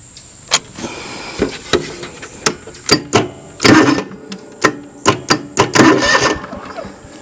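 A John Deere LX188 riding mower with a replaced starter is cranked as it tries to start: irregular sharp clicks and knocks, with two longer rough churning bursts, heard close up.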